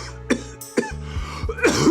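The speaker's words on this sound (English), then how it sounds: "Is it just one cough? Is it multiple coughs?" A person coughing several times, a few sharp separate bursts spread across a couple of seconds, close and fairly loud, with no talk.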